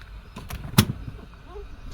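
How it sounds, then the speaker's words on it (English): The parking brake of a Toyota Land Cruiser 100 is released. One sharp mechanical clunk sits in the middle, close by, with a few softer clicks and rattles before it and quiet cabin noise around it. "Let's put the parking brake down."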